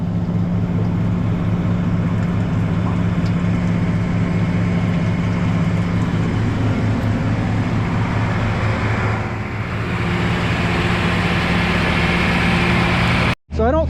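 A pump engine pumping manure into a manure tank on a farm, a loud, steady low engine drone that runs continuously, with a brief dropout at the very end.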